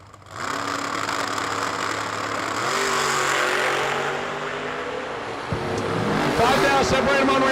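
Drag-strip engine sound from a 1985 Camaro staging at the New Year Nationals: a loud, steady rumbling drone that steps up in pitch around the three-second mark, then drops and rises sharply into a harsh roar near the end.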